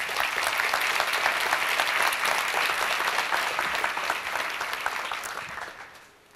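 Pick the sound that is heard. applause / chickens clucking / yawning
applause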